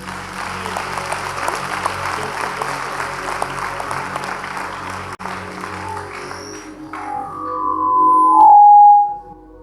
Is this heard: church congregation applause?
yes